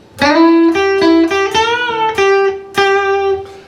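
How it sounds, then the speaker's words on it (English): Electric guitar lick with a bend and release on the second string followed by repeated picked notes, played alone, clear and close with sustained singing tone. "we're going to hit 10 on the 2nd string, bend and release, and then hit 8 twice"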